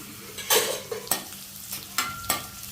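Green chili, onion and capsicum being sautéed and stirred in a pan for chilli chicken, with a soft steady sizzle punctuated by several sharp scraping stirs of a spoon at irregular intervals, close by, no talking.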